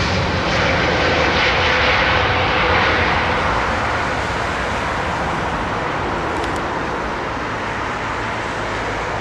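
An Airbus A320 jet takes off from runway 27R at London Heathrow, a loud sustained engine roar with a whining, rushing hiss that holds steady and fades slightly as the plane climbs away.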